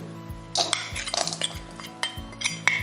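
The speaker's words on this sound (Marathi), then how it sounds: "मी गॅसवर कढई तापत ठेवली आहे त्यात बारीक करून घेतलेला गूळ टाकून घेऊ" Ground jaggery tipped into a hot kadhai on a gas stove, with metal clinks and scrapes of a spoon or bowl against the pan over a steady low hum, close and clear, no voices.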